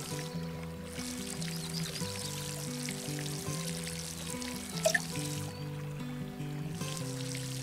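Water pouring steadily from a watering can onto garden plants and strawberries in the Garden Simulator game, a continuous splashing trickle with light background music and no talk.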